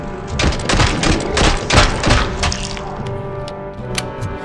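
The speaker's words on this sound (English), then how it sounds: "SMG, my guy." SMG fire in RoboCop: Rogue City on PS5 during a bank heist, with loud rapid bursts of automatic shots crackling close and continuous for several seconds before easing into scattered reports.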